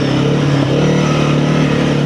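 A Honda CRF300L motorcycle engine hums steadily during light off-road riding, a close, loud, even drone with little change in pitch throughout.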